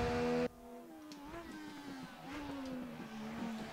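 A Mercedes W202 AMG DTM race car with a six-speed gearbox and 440 horsepower, driven in the RaceRoom racing game. Its engine drones and rises and falls in pitch, faint and continuous after a brief louder burst at the start.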